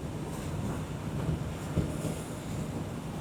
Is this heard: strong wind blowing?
yes